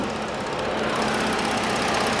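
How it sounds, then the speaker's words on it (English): A 2016 Ford Explorer Police Interceptor engine idling nearby, a steady, even broadband rumble with no breaks, heard alone for a couple of seconds. "this is the engine"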